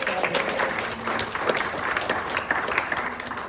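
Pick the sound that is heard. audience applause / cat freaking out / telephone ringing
audience applause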